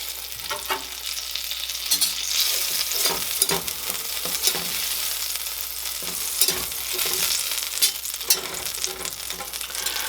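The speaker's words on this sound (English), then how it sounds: "we're going to take 2 tablespoons of butter and melt that down" Two tablespoons of butter melting in a pan give a continuous close sizzle with intermittent stirring clicks and scrapes, steady and fairly loud, with no talking.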